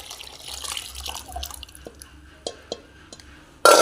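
Tender coconut water pouring into ice apple juice with soaked basil seeds in a home kitchen, heard as a soft trickle with scattered drips and light clinks, ending in a louder splash.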